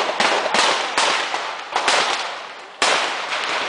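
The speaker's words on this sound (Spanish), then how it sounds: "No, nos están disparando aquí." Gunshots ring out during a shootout inside a Venezuelan prison: sharp, loud cracks spaced irregularly, each trailing a broad echoing tail, with no speech over them.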